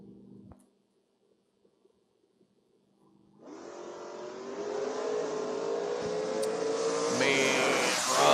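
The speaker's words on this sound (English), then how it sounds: "You'll love to see Aspen Wagons racing." An AMC Aspen wagon and a 1968 Camaro launch in a drag race, starting with a brief idle and quiet, then engines roaring up hard from about three seconds, revving louder and rising in pitch through the gears.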